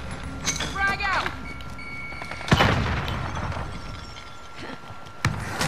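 A frag grenade bursts in a video game with one sharp, loud blast and a rumbling tail, followed by a smaller crack later on. Players talk over the gunfire and bustle throughout.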